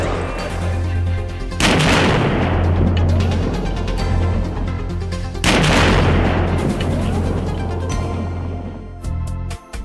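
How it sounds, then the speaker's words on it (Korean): Sodium dropped into water reacts and ignites hydrogen gas in a safety training demonstration, giving two heavy booming bursts a few seconds apart with rumbling decay and sharp pops near the end. "이제 연기가 나면서 불이 붙다가 수소가스를 발생하면서 폭발하게 됩니다"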